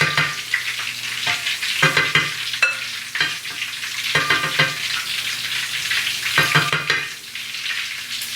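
Italian meatballs fry in oil in a pan with a steady crackling sizzle, punctuated by repeated scraping and tapping of a utensil as they are turned and browned.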